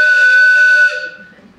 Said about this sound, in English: this is a train whistle.